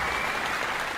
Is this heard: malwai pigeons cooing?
no